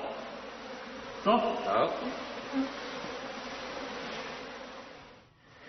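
Honeybees hum steadily around a person carrying their queen bee outdoors, a continuous low insect drone with brief spoken words over it.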